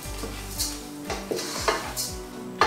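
Rice toasting in olive oil for a porcelini mushroom risotto, stirred in a pan with a soft sizzle and repeated scraping and clinking strokes of a spoon against the pan, close and clear.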